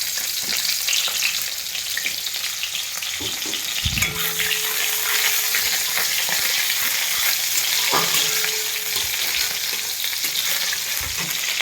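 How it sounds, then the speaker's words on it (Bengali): Chopped onion frying in hot mustard oil, a loud continuous sizzle throughout, with occasional spatula scrapes and clinks against the pan while it is stirred. "পেঁয়াজ কুচিটা একটু লাল লাল করে ভাজা হয়ে আছে"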